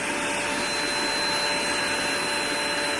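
A Dibea DW200 cordless vacuum cleaner runs at its first power setting in an echoey room, giving a steady, even whine with a faint high tone and no change in level throughout.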